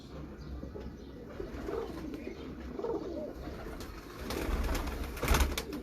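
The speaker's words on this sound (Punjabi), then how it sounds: "ਇਹ ਸਾਰੀਆਂ ਦੀਆਂ ਸਾਰੀਆਂ ਕਬੂਤਰੀਆਂ ਨੇ" A loft of female Sialkoti pigeons coos softly in a low, overlapping murmur, with occasional wing flutters and a louder burst near the end, no talk.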